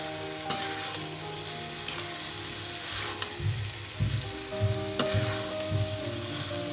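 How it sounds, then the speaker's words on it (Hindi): Green beans and potato masala with fresh coriander frying steadily in a pan, a constant close sizzle with occasional soft stirring knocks. "अब हम इसमें हरी धनिया डाल देंगे। और इसे हम 2 मिनट और पका लेंगे।"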